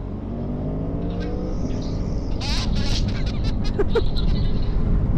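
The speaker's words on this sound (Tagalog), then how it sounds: "Lakas ng motor na yan." A BMW F800 GS motorcycle engine runs with a steady, droning hum that builds slightly partway through, heard close by at an unveiling event with people talking nearby.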